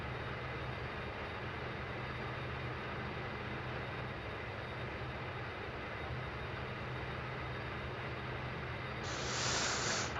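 Dash 8 Q400 turboprop engines in the Prepar3D flight simulator give a steady, loud droning roar with hiss that swells slightly near the end as the RPM is pushed up for taxi.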